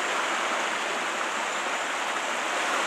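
Stream water rushing beside an old closed-down countryside school, a steady, dense broadband hiss of flowing water with no breaks, fairly close and unvarying throughout.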